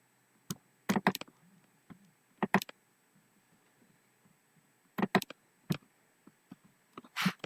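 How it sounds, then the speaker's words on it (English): Computer keyboard typing during a home livestream Q&A: short bursts of quick key clicks, faint and fairly close, separated by quiet gaps, with no talking. "every so often you will be hearing some typing in the background"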